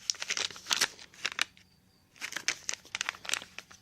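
Crinkly plastic bag rustling in quick bursts as a chainsaw carburetor is unboxed, pausing briefly mid-way before more crackling handling, close and fairly loud.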